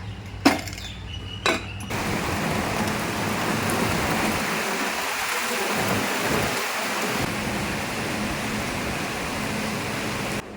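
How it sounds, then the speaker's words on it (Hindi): Heavy rain pouring down after a hot sunny day, a dense steady roar of drops following a couple of sharp knocks at the start, constant and close. "इतनी तेज़ धूप के बाद इतनी तेज़ बारिश आ गई"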